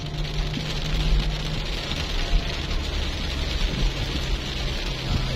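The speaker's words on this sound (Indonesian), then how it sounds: "Nah, ini suasana masih hujan," Steady rain heard during a drive along the boulevard around Lake Tondano in Minahasa, North Sulawesi, a continuous broadband hiss with a low road rumble underneath and no talking.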